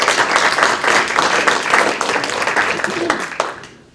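An audience at the 2025 San Mateo Mayor's State of the City Address applauds a housing milestone, steady dense clapping lasting several seconds before tapering off at the end.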